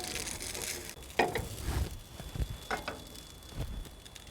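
Hash browns frying on a single-burner biogas stove, a soft continuous sizzle with a few scraping and clattering touches, faint and close, no talk.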